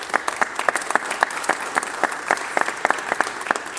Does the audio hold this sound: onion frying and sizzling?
no